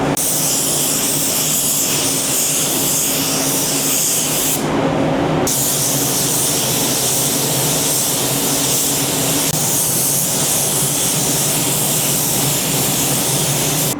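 A spray gun lays a coat of car paint on a vehicle body, a loud continuous hissing spray that stops briefly for about a second before resuming steadily, with no talking.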